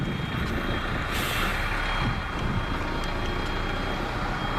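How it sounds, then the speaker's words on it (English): A bus idles and rumbles outside at the former Westerbork camp, its engine forming a steady, loud drone with a hiss of air brakes over the outdoor ambience. "You can probably hear the bus behind me."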